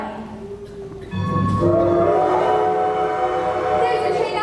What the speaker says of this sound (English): There's the train now, run for it.